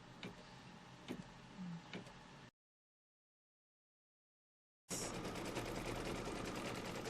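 An embroidery machine stitching a quilt block, its rapid mechanical needle rattle running close and steady, cutting out abruptly to silence and then resuming at a louder, denser pace.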